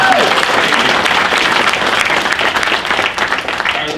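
Loud, dense crowd applause fills a Q&A panel session at a gun convention, sustained clapping from many hands that holds steady for the whole stretch, with a little voice mixed underneath.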